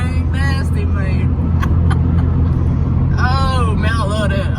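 A muscle car at a car meet rolls by with a heavy, sustained exhaust rumble, loud and close throughout, as someone talks over the engine noise.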